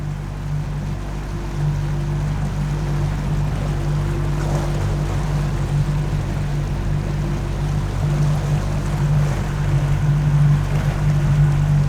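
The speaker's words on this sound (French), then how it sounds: "Il faut donc prendre le bateau pneumatique pour accéder à la sortie du port" A steady low outboard motor drone from an inflatable motorboat leaving the harbour at Port-la-Forêt, with wind and water wash, continuous throughout and close by.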